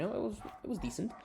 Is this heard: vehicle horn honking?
no